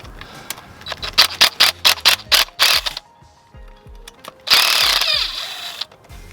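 A power tool spins bolts off a dirt bike in a series of short whirring bursts, about eight in quick rhythm, followed by scattered metallic clicks and a longer, louder burst near the end, close up with no talking.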